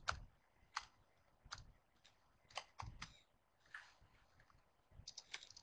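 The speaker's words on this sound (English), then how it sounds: "let me just finish typing in." Faint keystrokes on a computer keyboard, a few irregular sharp clicks and short bursts of typing spaced across a quiet room.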